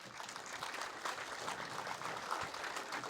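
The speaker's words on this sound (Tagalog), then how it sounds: "From Korea, palakpakan po natin siya." Crowd applause at an airport inauguration in Busuanga, welcoming a guest from Korea: a continuous, fairly soft wash of many hands clapping heard from a distance, with no voices on top.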